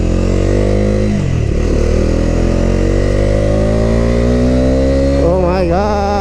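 A Bajaj Dominar 250 motorcycle rides and revs on a street, its engine loud and close with a continuous drone that dips, then climbs steadily in pitch as it accelerates, wavering near the end.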